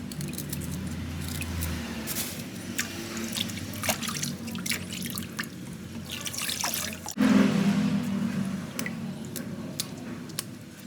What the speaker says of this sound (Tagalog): So, hugasan natin ang ating lemongrass.